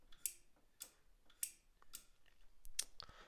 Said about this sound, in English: now you can hear it clicking